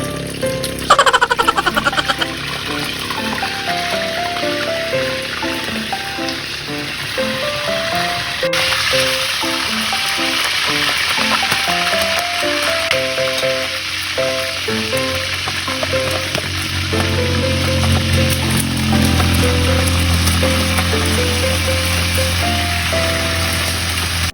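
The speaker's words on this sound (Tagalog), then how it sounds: "medyo init na yung oil. Ilagay na natin yung isda natin." Fish sizzles and crackles in hot oil, a steady close frying sound with gentle background music throughout and no talking.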